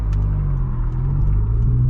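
A modified 2022 Honda Civic Si rumbles close and loud with a deep, steady exhaust burble, small pops flicking over the low drone.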